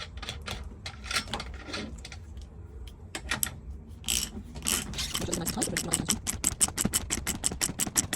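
Nut being tightened by hand onto the axle of an electric 36v/48v quad bike, giving rapid, evenly spaced ratcheting clicks that speed up into a steady close mechanical rattle.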